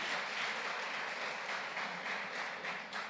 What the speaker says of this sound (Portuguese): Dê um aplauso aí para você mesmo agora.